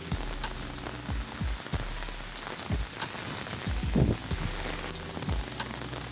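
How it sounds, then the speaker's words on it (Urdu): Heavy early-morning rain pouring during a storm in Dadyal, Azad Kashmir, a dense steady hiss of drops drumming on surfaces, with low rumbling mixed in underneath and no voices. "6:30 صبح نا ٹائم بڑا خوبصورت منظر بارش ہے"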